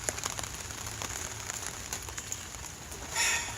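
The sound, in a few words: rain falling outside tool tent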